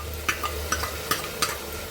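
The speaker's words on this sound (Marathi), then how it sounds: "आता आपण हे जे हिरवं वाटण केलं आहे ना ते फोडणीवर टाकूया आपण" Green masala paste goes into hot tempering for chicken, giving a steady hiss with several sharp spoon clicks against the pan at irregular intervals, close and fairly quiet.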